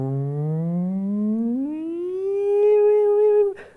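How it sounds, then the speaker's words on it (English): A smooth, eerie electronic theremin tone from a Tesla theremin glides steadily upward in pitch, wavering slightly before cutting off abruptly. "very popular, spooky sci-fi theremin sound"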